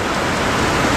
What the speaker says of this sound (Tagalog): Halos di na natin makita dahil sa lakas ng ulan.